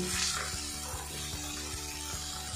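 Potatoes and spice masala frying dry in a pan for a ridge gourd curry, a low steady sizzle with rhythmic scraping stirs every half second, no talk.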